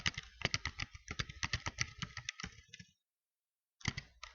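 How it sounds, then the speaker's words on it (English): Typing on a computer keyboard at a desk: close, quiet, rapid key clicks in an uneven run for about three seconds, a short pause, then a few more taps. "and I type in my username"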